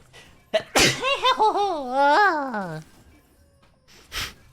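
A single loud sneeze preceded by a rising, drawn-out wind-up breath, followed by a brief exhale, close up and with no other sounds.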